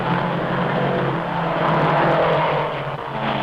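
Race cars at speed in a 1953 French auto race on a roughly five-mile course of speedway and country roads, a steady, loud engine roar with a rising whine as cars blast past, heard under old broadcast-style recording hiss.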